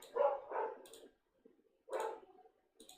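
Two dogs bark indoors in short bursts, a couple of quick barks, a pause, then another bark and a softer one, moderately close and without talk over them.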